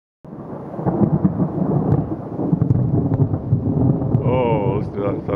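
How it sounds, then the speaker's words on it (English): Thunder rolls in a long, loud rumble over a garden outdoors during a storm. Wind buffets the microphone, and a voice speaks briefly near the end. "Oh, listen to that thunder roll."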